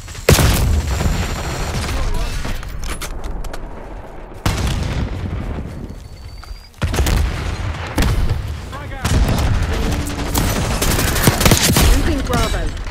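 A frag grenade blast and heavy gunfire in a Call of Duty multiplayer match come as repeated loud volleys of shots and booms, broken by short quieter gaps.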